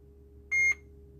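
A Mercedes Vito W639 van's dashboard gives a single short electronic beep, clear and close, during a hidden-menu check, set against a low steady cabin hum.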